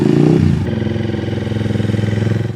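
A motorcycle engine roars loudly at first, then settles into a throbbing, rhythmic idle with a steady pulsing beat, heard close up and alone.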